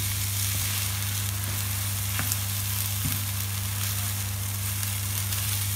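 An egg fries together with stir-fried instant noodles in a pan, a loud, unbroken close sizzle with a few faint stirring clicks and taps.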